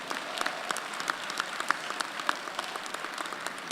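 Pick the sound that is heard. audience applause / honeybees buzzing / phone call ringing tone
audience applause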